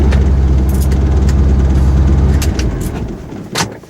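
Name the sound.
truck engine while parking in the driveway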